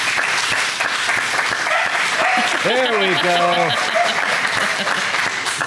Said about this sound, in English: Let's give her a round of applause here.